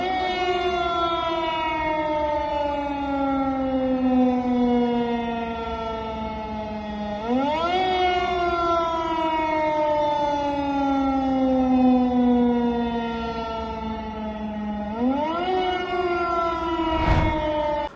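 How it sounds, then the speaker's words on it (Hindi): A wailing air-raid siren in Moscow rises and slowly falls in long repeating cycles, steady and far-carrying, with a sharp brief noise near the end. "वो सायरन भी अब मॉस्को के अंदर सुनाई दे रहे हैं।"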